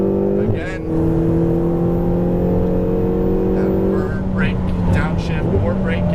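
A Ferrari 488 GTB engine accelerating on a track after an upshift, with a steady loud drone whose pitch climbs gradually, and someone speaking over it.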